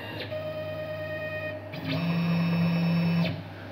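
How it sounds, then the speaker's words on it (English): A CNC6040 router retreats to a safe height after touch probing, its stepper motors whining in sustained tonal runs that change pitch between moves, separated by brief pauses, close and clear without speech. "after probing, it is going to retreat to a safe distance from the piece"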